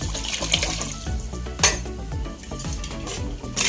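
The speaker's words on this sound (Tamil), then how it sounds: "நம்ம ரசத்துக்கு தேவையான தண்ணி சேர்த்து கொதிக்க விட்டுறோம்." Water added to a pot of rasam on the stove, with splashing and clattering of metal utensils and pot, steady and close, with no voices.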